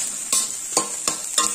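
Egg fried rice with chicken, soy and chilli sauce stirred in a hot pan, four evenly spaced scraping strokes over a steady sizzle, close and fairly loud, no talking.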